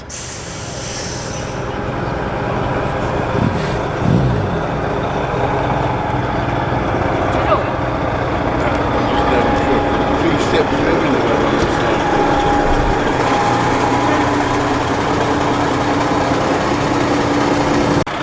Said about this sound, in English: Stags are departing amidst all this lorry action.